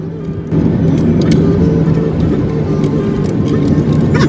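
A car is driven on the road on a trip from Delhi to Badrinath, heard from inside the cabin as a loud, steady low rumble of engine and road noise that picks up after a brief quieter start.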